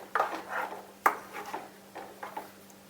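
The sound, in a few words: stirring jackfruit seed curry with coconut in a pot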